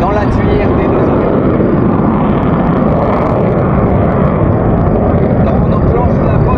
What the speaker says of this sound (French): On enclenche la post-combustion